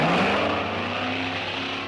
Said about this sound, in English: That car sounds wicked.